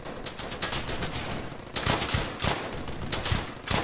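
Rapid bursts of rifle and machine-gun fire in the World War II shooter Brothers in Arms: Hell's Highway, loud, close and continuous, with sharper shots punching through the clatter.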